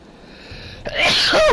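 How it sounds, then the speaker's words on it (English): A single loud, close sneeze after a quick sharp inhale, bursting out at the end. "Excuse me. Again, still sneezing."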